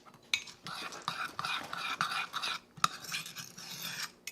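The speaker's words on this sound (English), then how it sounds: "and I'm going to stir it around." Keto chocolate chip cookie dough is stirred in a bowl, with scraping and clinking utensil strokes in an uneven rhythm, close and fairly quiet.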